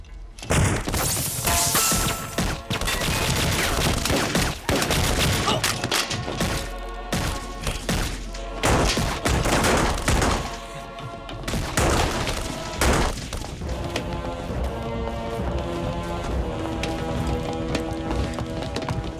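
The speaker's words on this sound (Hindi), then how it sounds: "अंदर से फायरिंग कम हो गई है" Gunfire rattles through a film shootout in the climax of the 2010 Bollywood action film Prince, with dense, loud bursts and crashing impacts packed together, then easing toward sparser hits and a musical score near the end.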